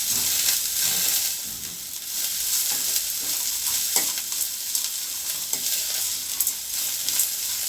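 Tamarind sautéed with coriander chutney ingredients in a pan, a continuous bright sizzle with soft intermittent stirring scrapes, close and steady.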